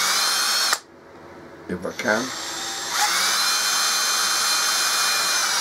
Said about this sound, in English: So I'm going to drill the hole about 3/4 inch